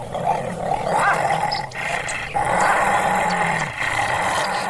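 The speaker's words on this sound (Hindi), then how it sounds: "तभी उस कुत्ते के गुर्राने की आवाज आती है।" A monstrous dog in a forest lets out a loud, rumbling growl close by, sustained and throaty with brief dips, heard alone under a dramatic horror-story backdrop.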